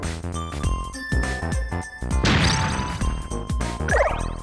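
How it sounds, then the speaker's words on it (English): Small chiming ring from a bomb explosion in the Bomberman 3D video game, heard among repeated smashing, crashing game effects with bright tinkling tones, loud and busy throughout. "is that little ringing noise the sound that he was talking about"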